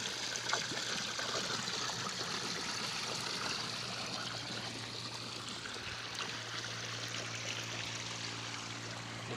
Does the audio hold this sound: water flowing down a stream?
yes